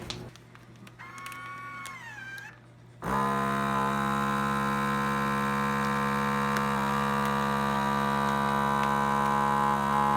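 A Food Saver vacuum sealer runs on a bag of frozen broccoli, starting after a brief quieter lead-in into a loud, steady motor hum with strong harmonic drone that holds unchanged to the end, with no talking.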